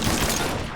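Dense, loud automatic gunfire fills the whole short burst in a video game battle, a continuous rattling fusillade with no pauses.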